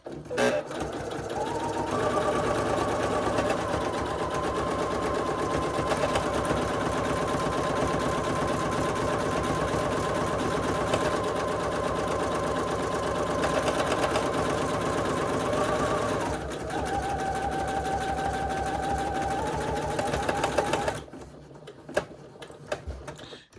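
A sewing machine stitches a buttonhole in a steady, continuous mechanical whir lasting about twenty seconds, with a slight change in pitch partway through, before stopping abruptly.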